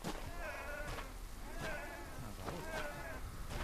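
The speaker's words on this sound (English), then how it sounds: "Sounds like sheep being..." Sheep bleat repeatedly, several wavering calls close by, spaced about a second apart over a noisy outdoor background.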